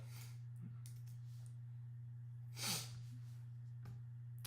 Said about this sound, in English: I'm like sniffling.